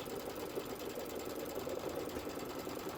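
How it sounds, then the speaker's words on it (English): An embroidery sewing machine stitches the outer border strips of a Kimberbell Candy Corn quilt in the hoop, giving a steady, close, continuous mechanical whir with no pauses and no talking. "I like to trim while it's stitching"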